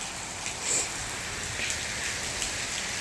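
Rain falls steadily, a dense hissing wash with occasional drips and taps on nearby surfaces, close and even for the whole stretch.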